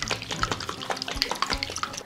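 A closed jar of balsamic date vinegar salad dressing is shaken hard, giving a quick, steady run of sloshing liquid and rattling glass for a couple of seconds, close and fairly loud.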